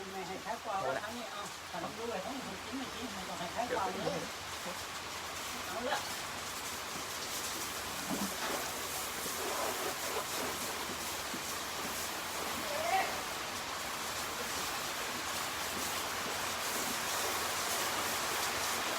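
Steady rain hisses down in a constant wash of noise while people talk quietly over it.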